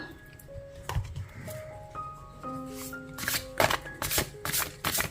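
Tarot cards are shuffled with several soft riffling bursts toward the end, following quieter handling, over a faint background tone.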